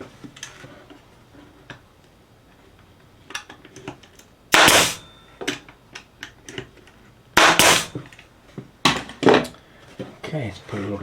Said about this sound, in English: and then glue and staple it on there